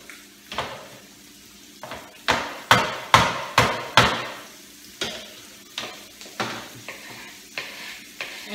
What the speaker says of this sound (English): And she gonna saute up her onions.